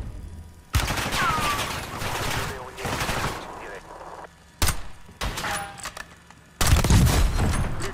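Heavy sniper rifle shots boom in Warzone Black Ops 6, several loud broadband cracks spaced a few seconds apart, each with a ringing tail, close and dominant.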